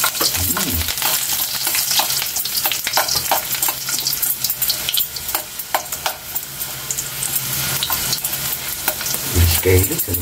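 Garlic frying in hot oil, a loud continuous sizzle with crackling spits and a few scraping stirs and clinks near the end.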